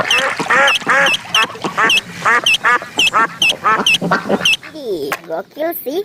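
A duck quacks again and again in a fast, loud, close run of nasal calls, with a short burst of excited talk at the end.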